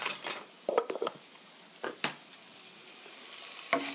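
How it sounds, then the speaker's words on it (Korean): Chicken and chili powder are stirred in a hot pan, with soft sizzling under a few scraping strokes of a utensil in short bursts, then quieter frying. "살짝 볶아주세요."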